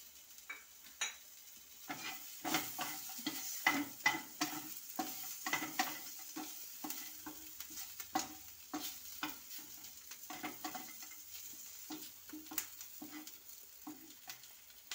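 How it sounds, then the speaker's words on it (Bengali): Roasted peanuts and raisins are stirred into a frying pan while making savoury semolina upma, with repeated quiet scraping and rattling strokes at an uneven rhythm. "এখানে আমি কিছু ভাজা চিনেবাদাম আর কিশমিশ অ্যাড করে দেব।"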